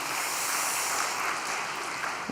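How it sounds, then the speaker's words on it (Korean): A congregation at an all-night prayer gathering gives a sustained round of encouraging applause, a dense, even wash of clapping that stays steady from start to finish. "다시 한번 격려의 박수를 부탁드리겠습니다"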